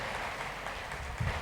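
Dense audience applause at a conference closing ceremony, a brief steady wash of many hands clapping, fairly distant and even in level.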